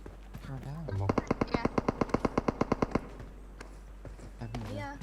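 Automatic gunfire in the mobile battle-royale game PUBG Mobile rattles off as one rapid burst of roughly fifteen evenly spaced shots lasting about two seconds, with players chatting before and after.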